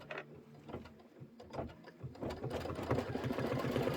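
A Kimberbell embroidery machine stitches a tack-down line, giving a rapid, steady mechanical clatter that starts unevenly, then settles into a quick even rhythm, fairly quiet and close, with no talking.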